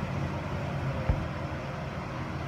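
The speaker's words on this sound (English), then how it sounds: "Sorry about the noise, got the fans running here" A steady low whir of electric fans running in a warm hydroponic grow room with Dutch bucket plants, a constant broadband hum with a faint brief click partway through.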